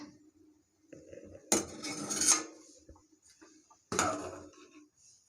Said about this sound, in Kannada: ಇವಾಗ ತುಪ್ಪದಲ್ಲಿ ಫ್ರೈ ಮಾಡ್ಕೊಂಡಿರೋ ಒಣದ್ರಾಕ್ಷಿನ ಪಾಯಸಕ್ಕೆ ಹಾಕ್ಕೊಳ್ತಾ ಇದ್ದೀನಿ